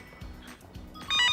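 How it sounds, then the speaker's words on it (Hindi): A telephone bell starts ringing near the end, loud and close, with a bright repeating trill after a stretch of quieter room noise and low thumps. "लेकिन ये फोन किसका हो सकता है?"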